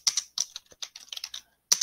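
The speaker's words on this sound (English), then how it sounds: "this is basically my keyboard and mouse, guys." Someone types on a Logitech computer keyboard in short, clicky bursts of keystrokes, close and crisp, with a brief pause before a final few taps.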